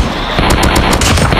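Automatic gunfire in Call of Duty, a loud, sustained burst of rapid shots with several sharper reports standing out, close and dense over a continuous battle din.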